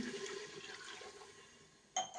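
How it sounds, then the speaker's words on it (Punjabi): A glass of water is poured into sizzling masala for matar paneer, a swishing liquid rush that fades out, ending with a sharp clink of the glass. "ਹੁਣ ਆਪਾਂ ਇਹਦੇ ਵਿੱਚ ਪਾਵਾਂਗੇ ਇੱਕ ਗਲਾਸ ਪਾਣੀ"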